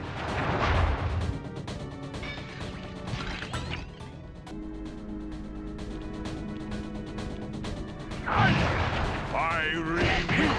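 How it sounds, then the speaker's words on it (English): A fireworks attack in the Sly Cooper video game bursts out as loud crackling blasts and booming pops with fizzing, whistling streaks, heavy at the start and again near the end over a steady rumble, while a voice speaks partway through. "I will send you to your doom with the beauty of my new firework technique"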